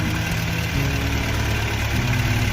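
A Mercedes-Benz W205 with the M274 turbo petrol four-cylinder engine, newly fitted with fresh injectors, settling into a steady idle, with a loud, continuous close-up rumble and a slight shift in tone partway through.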